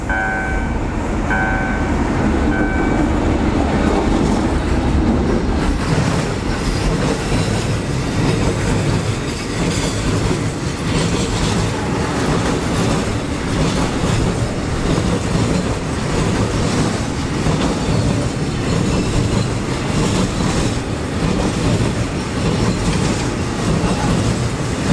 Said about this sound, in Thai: ตอนนี้ก็มีรถสินค้าปูนนะครับกำลังจะผ่านผาเสด็จ